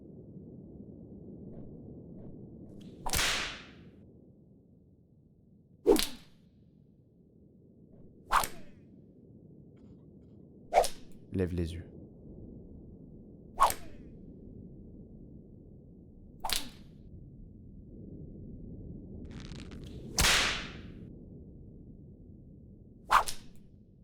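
Whip lashes flog a sailor aboard a ship, eight sharp cracks landing at slow, even intervals against a quiet background, with a single short spoken line between strokes.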